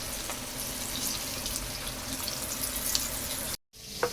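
Steady crackling sizzle of chicken feet frying in hot oil, with scattered sharp pops throughout, then a brief cut to silence near the end.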